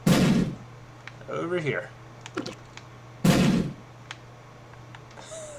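Enemy shots in The Binding of Isaac: Afterbirth, two sharp, loud bursts a few seconds apart with smaller clicks and effects between them, a brief spoken phrase and a steady low hum underneath.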